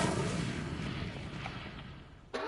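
Casting the Incendio fire spell in Hogwarts Legacy gives a burst of flame. It opens with a loud, crackling whoosh that fades over about two seconds, then a sharp short hit at the end.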